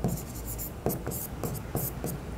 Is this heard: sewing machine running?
no